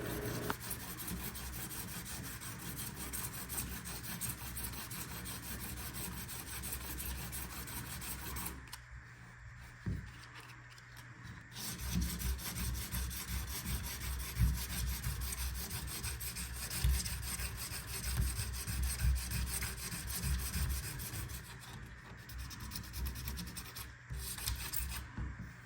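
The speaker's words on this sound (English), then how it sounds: "take 60 grit and very lightly sand it" Coarse 60 grit sandpaper rubs lightly and steadily over a fiberglass shower repair, a continuous close scratchy hiss that pauses briefly midway before resuming.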